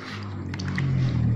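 Soft crinkling and squishy handling sounds of soaked photo paper, sounding like plastic, flexed up close over a low background hum.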